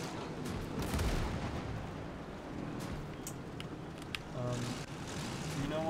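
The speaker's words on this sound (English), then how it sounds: "Can you stop shooting at me?" Gunfire and distant artillery booms in the video game Call to Arms - Gates of Hell Ostfront, scattered thuds and shots under a low rumbling battlefield, with a voice speaking over them.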